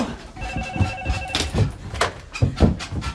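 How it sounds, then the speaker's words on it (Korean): A telephone rings with an incoming call, a single electronic ring burst of about a second heard indoors, surrounded by people talking and some rustling and bumps. "전화 왔다"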